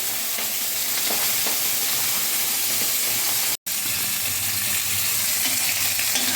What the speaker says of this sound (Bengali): এবার ভেজে নেব মাছ।